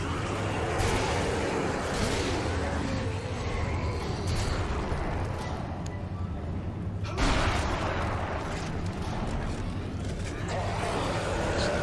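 Javelin gun shots in the video game Dead Space 2, heavy bursts over a dense rumbling game soundscape, one strong hit near the middle, loud and continuous with no clear gaps.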